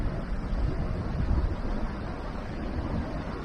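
Low, rumbling wind buffets the microphone steadily throughout, a dull roaring noise with no voices.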